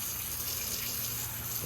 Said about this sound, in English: Look at that splash.